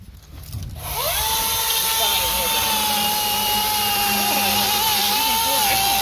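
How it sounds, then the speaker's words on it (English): A Milwaukee M18 Fuel Top Handle chainsaw cuts through big wood. A loud, steady high-pitched motor whine starts after a second and holds for several seconds, with the pitch dipping slightly as it bites. "It's the M18 Fuel Top Handle chainsaw."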